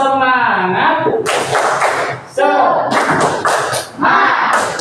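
A group performs a rhythmic cheer clap in an Indonesian classroom or gathering, with bursts of sharp unison claps alternating with voices chanting between them.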